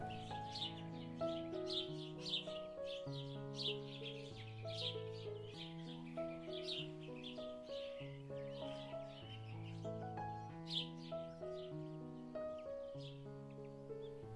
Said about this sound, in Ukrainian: а пташки. Це ж треба один поперед одного співають.